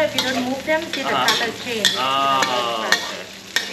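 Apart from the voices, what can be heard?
stirring food in a frying wok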